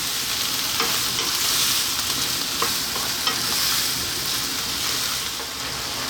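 Chicken and bean sprouts stir-fry in a hot pan with a constant, loud sizzle, broken by occasional scrapes and clinks as the ingredients are kept moving.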